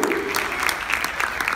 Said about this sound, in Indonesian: Tepukan untuk anda semua.